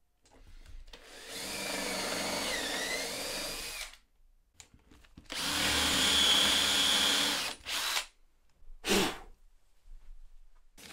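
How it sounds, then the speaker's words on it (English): Power drill fitted with a Forstner bit boring a shallow recess for a bolt head, close and loud: two long whirring bursts of several seconds each, then short blips as the bit is pulsed and stopped. "I'm going to get a Forstner bit and drill down a shallow hole for the head of the bolt to go into."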